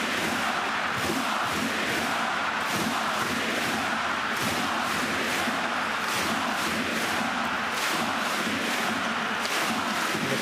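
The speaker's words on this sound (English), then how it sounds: "the crowd chants Latvia, and it certainly is a big night" Basketball arena crowd at a Latvia v Turkey FIBA World Cup 2023 qualifier, chanting Latvia in a loud, dense, steady roar with rhythmic pulses across the whole stretch.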